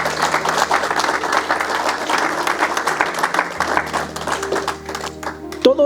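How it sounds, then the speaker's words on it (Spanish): A church congregation claps loudly and steadily for several seconds, the applause thinning near the end as voices and a few isolated claps come through. "Es más, denle un aplauso por favor a ellas."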